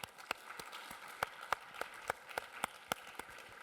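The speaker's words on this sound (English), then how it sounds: "So a big round of applause," Sparse, quiet hand claps from a small conference audience welcoming a lecturer, about a dozen distinct claps spaced irregularly and sounding somewhat distant.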